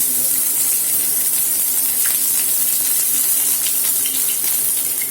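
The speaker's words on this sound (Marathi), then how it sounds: "इथे एका पॅनमध्ये मी सरसूचं तेल तापवून घेतलेलं आहे तेल व्यवस्थित तापलं की यात आपण आपले मिरच्या टाकून" Green chillies go into hot mustard oil in a pan for a tempering, giving a steady, loud, close hiss and crackle of frying that holds evenly throughout with no talking.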